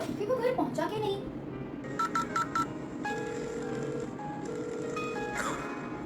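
A telephone keypad dialed during a school Mother's Day skit: a quick run of four sharp tones, then longer steady tones, over background voices and a bustling room.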